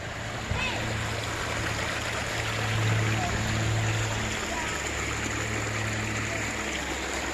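Water running through a custom mini highbanker set up in a bathtub, a steady close trickling and splashing flow that continues throughout under a low hum.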